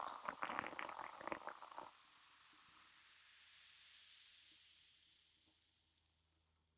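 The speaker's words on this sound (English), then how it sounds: "The pour is steady and doing well." Beer pours from a tap into a glass, producing a loud, frothy, splashing gush for about two seconds that then settles into a soft, fading fizz of foam, with a single faint clink near the end.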